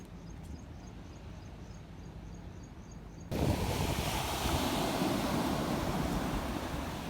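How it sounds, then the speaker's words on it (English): Wind at a beach in Latakia, Syria rushes and buffets loudly against the microphone after a quieter stretch, a steady roaring gust filling the rest. "It is a bit windy, hence the earphones"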